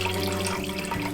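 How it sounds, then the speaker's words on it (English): Braised ox tongue sauce is poured through a strainer into another pot, a brief continuous splashing, trickling pour heard up close and alone. "after we separate the ox tongue from the sauce, we strain the sauce"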